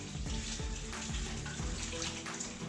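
Water rushing steadily from a gravel siphon as aquarium water drains into a dirty bucket, a continuous close splashing flow.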